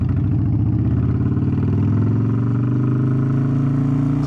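A motorcycle engine runs close and loud with a steady mid-pitched drone, its pitch climbing smoothly as the rider pulls away in first gear, with no voices over it.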